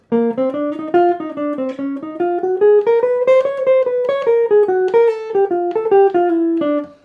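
A solo instrument plays the opening four bars of a jazz etude, a continuous legato line of rising and falling notes, close and loud and heard alone.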